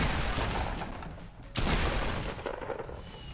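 Gunfire in Fortnite Battle Royale, a dense burst of shots with mechanical clatter that swells again midway, loud and continuous with no talk over it.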